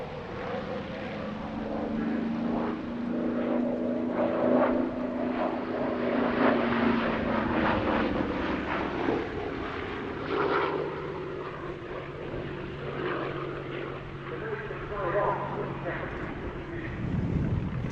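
A CAC Boomerang propeller aircraft flies a display at the Duxford Battle of Britain Airshow 2025, its engine drone rising and falling in pitch as it passes, heard steadily beneath a narrator's voice.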